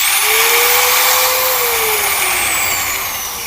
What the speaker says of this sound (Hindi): तो हमारे यहाँ पर ग्राइंडर चल रहा है